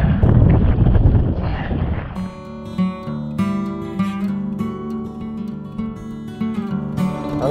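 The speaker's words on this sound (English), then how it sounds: "The wind keeps turning me this way." Wind buffets a microphone at sea near a small Bahamas island, a loud rushing roar at first that gives way to softer gusts and water movement.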